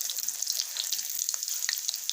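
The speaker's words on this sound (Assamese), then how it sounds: "মই এইফালে ডিম ভাজি আছোঁ" Eggs fry in a pan for a home-cooked egg, potato and tomato curry, a soft continuous sizzle with small crackling pops, fairly quiet and close, with no talking.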